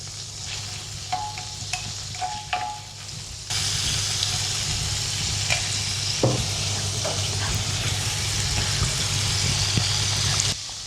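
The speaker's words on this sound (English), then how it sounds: "Maybe just like a little bit more butter. Melt that butter." Butter melts in a hot pan with a soft crackle at first, then settles into a loud, steady, close sizzle with occasional pops and stirring scrapes.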